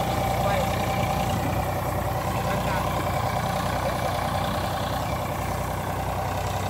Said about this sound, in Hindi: अभी अपना खेत जोत रहा है ट्रैक्टर की आवाज़ शायद आई रही होगी